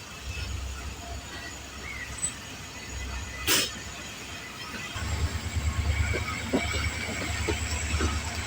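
The 1UP KCR Shah Latif Express pulls out of Malir Colony in Karachi, with a low rumble and rhythmic clacking of wheels on rail joints building up, plus a brief sharp hiss partway through.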